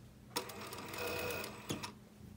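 A sewing machine stitches a straight seam along a fabric strip for a knife-edge bolster, giving a steady mechanical whir for about a second and a half, bracketed by brief clicks as it starts and stops, heard close with no talking.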